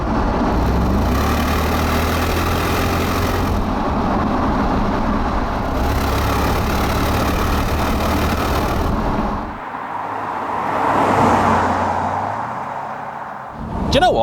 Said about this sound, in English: let's try and put my foot down and find out what the old Jag is like